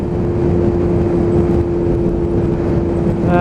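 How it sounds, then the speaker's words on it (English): A Kawasaki ZX7R sportbike's exhaust drones steadily while riding, a loud continuous engine tone with a strong held hum under rushing wind noise and no talk. "Just a bit of quiet there, just to enjoy the exhaust tone."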